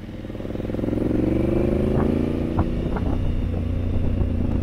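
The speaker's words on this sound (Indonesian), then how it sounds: "Ini motornya aku nih." A motorcycle engine runs close by with a steady, throaty rumble that swells in the first second and then holds, with a few light clattering knocks over it.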